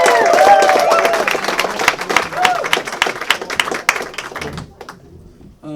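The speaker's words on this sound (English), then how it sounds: "Thank you for the applause." A comedy-show crowd claps and whoops loudly as a young stand-up comedian takes the stage. The close, crisp applause comes with cheering voices, then tapers off sharply and falls nearly silent.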